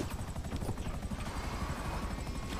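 A helicopter in GTA 5 Online whirs with a steady, fast rotor chop and engine drone, loud and close throughout, no one talking over it.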